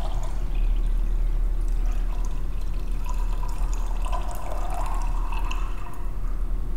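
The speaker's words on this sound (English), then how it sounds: "if we decant off the top" Liquid is decanted off the top of a copper nanoparticle mixture, giving a steady pour with light dripping and splashing that swells slightly toward the end.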